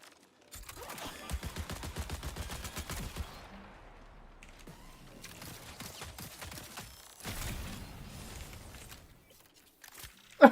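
Automated turrets in the Marathon video game fire a rapid mechanical burst, with a dense rattle of gunfire early on, a quieter lull, then another loud volley and a sharp final crack.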